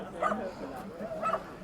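Month-old puppies at a dog market in Fergana give two faint, high yips about a second apart, under a murmur of background voices.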